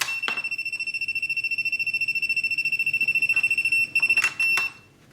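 A USB-C grounding tester, plugged into a computer setup, beeps at induced voltage: a rapid, piercing train of high pulsed beeps running steadily for several seconds, then breaking into a few shorter bursts before stopping.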